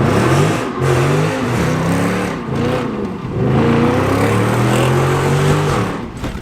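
A Chrysler 300 SRT engine revs loudly and close up in repeated rising and falling pulls, the exhaust note swelling and dropping with no talk over it.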